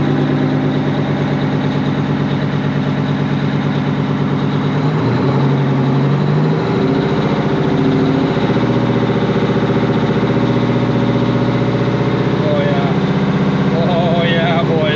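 A 1980 Peterbilt 359 with a Detroit 8V92 diesel idles loud and close in a steady, deep rumble, with a brief voice and some clatter partway through.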